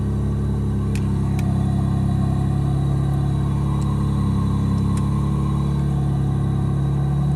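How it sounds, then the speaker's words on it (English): A parked car with a big exhaust leak runs continuously, giving a loud, rough, low rumbling drone with a raspy pulsing edge, close by and alone. "So this one has a big exhaust leak from the sounds of it."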